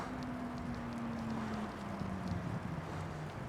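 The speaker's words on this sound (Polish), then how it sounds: "wiatr dmucha." Steady rushing wind noise buffets the microphone during an urban bike ride, with a low droning hum running underneath.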